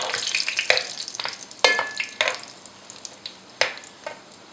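Red chilies and spices frying in a pan for chicken korma, crackling and sizzling up close while a spoon stirs, with several sharp scraping strokes standing out over the steady fry.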